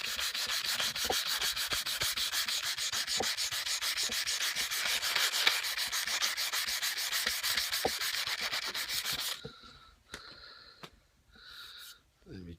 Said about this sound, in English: It's a little bit more sanding.